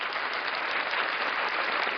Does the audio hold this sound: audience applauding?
yes